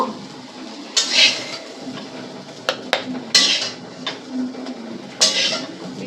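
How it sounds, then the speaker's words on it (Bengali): Fried potatoes being moved from a wok onto a plate in a home kitchen, heard as a few sharp clinks and scrapes of a utensil against dishware. Between the clinks a low, steady background continues, and there is no talking. "এবার আলুটাকেও আমি একটা প্লেটে নামিয়ে নেব"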